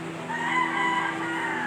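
A rooster crows close by in one drawn-out call, loud and clear, with the tone rising and falling and no voices over it.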